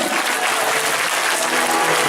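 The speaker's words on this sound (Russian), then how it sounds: "Ваши аплодисменты!" An audience at an opening ceremony claps in a loud, dense, continuous burst of applause lasting about two seconds, with no voices above it.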